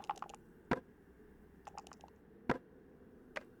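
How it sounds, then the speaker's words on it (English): Dice rolling in the video game Dracula 3, a few light clattering taps and rattles in quick bursts followed by sharper single clicks, quiet and close. "I'm going to roll once more just to confirm that I'm always getting a 1 with this dice."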